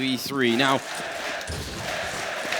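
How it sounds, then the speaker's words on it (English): A crowd at a Counter-Strike esports semi-final in Katowice keeps up a dense, sustained roar and chant behind a commentator's voice, with a sharp rising electronic sweep near the start. "the crowd is chanting, so it's a little bit overwhelming here"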